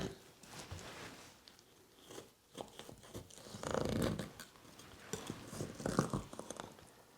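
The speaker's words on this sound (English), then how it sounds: "We're going to cut into it to see what it looks like." A knife cuts into the crust of a homemade sour cream apple pie, making soft, faint crunching and crackling sounds in uneven bursts, close by and quiet, with no one speaking.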